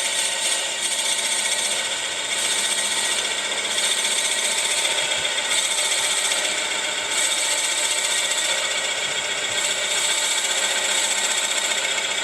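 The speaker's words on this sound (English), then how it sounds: "Now we'll start drilling the holes." A power drill grinds steadily into wood while making a pepper mill, a continuous high whirring rasp with brief dips, close and loud throughout.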